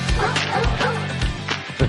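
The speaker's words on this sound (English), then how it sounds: "Calling in the dogs here." Dogs bark and yip in quick, loud bursts at a state championship softball game. The barks are close and repeat in an uneven rhythm over crowd noise.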